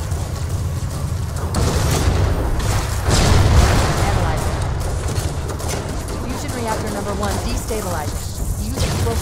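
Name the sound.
explosives hitting fusion reactors in video game Halo CE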